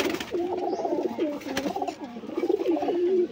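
A male white Kagji pigeon coos close by in a repeated, rolling throaty rhythm, a steady run of soft, warbling calls with a brief tap partway through.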